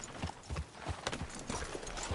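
Horse hooves clip-clop at a steady walking pace in a PS4 video game, the hoofbeats close and clear against quiet ambient game sound.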